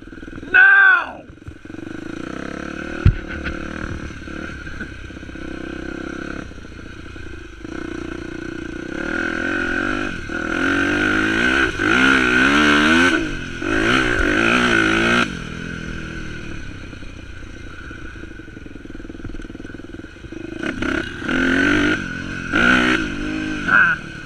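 A carbureted dirt motorcycle revs and climbs a hill, its engine rising and falling in loud bursts and sustained pulls, with people talking nearby.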